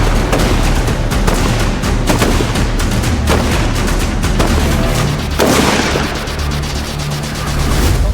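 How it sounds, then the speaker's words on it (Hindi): Rifle shots fired by Assam Regiment Agniveer recruits on an outdoor firing range, loud sharp cracks repeating through the stretch with a booming range ambience behind them. "अपना टाइम पर 4 राउंड सिंगल शॉट फायर।"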